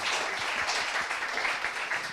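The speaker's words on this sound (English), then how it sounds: "Let's give these women a clap." An audience claps steadily for a group of women at an event, a dense, even wash of applause that stays loud from start to finish with no voices above it.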